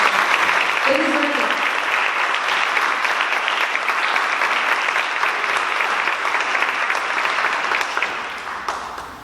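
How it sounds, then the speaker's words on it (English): Audience at a student leadership candidate debate at a high school applauds steadily for about nine seconds, a dense wash of clapping that tapers off at the end. "Can I just have a big round of applause for all of these amazing"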